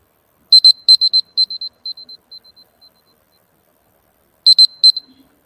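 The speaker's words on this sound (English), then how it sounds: "there will be a buzzer or an indicator." An electronic buzzer timer signals the end of a timed round at a panel event: a burst of rapid high beeps, then a slowing, fading series of single beeps, followed by another quick cluster of beeps near the end.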